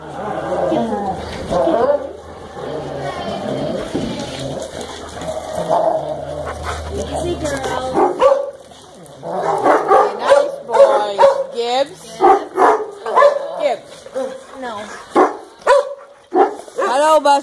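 A dog in a mixed room gives a run of sharp barks and yips, rapid and close, with whimpery sounds mixed in, while people talk over and around it.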